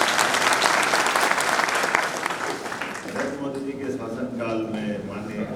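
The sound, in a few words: crowd applauding at political speech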